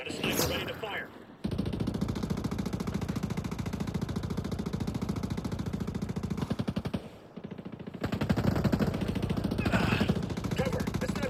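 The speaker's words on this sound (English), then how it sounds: "Got a sniper ready to fire." Rapid automatic gunfire hammers steadily for long stretches in a Ghost Recon Breakpoint firefight, a dense mechanical rattle that pauses briefly and resumes, with a voice heard at the start.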